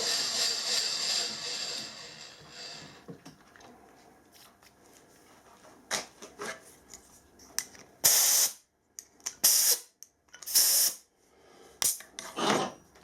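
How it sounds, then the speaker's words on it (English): Metal screw holes are deburred by hand before thread inserts are fitted: scraping and rasping strokes up close, soft at first, then sharp, loud bursts of grinding with short pauses between them. "Just deburr the holes first."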